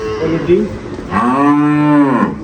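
A dairy cow moos loudly and close by on a dairy farm in Dhaka, a long drawn-out low call after a shorter grunt.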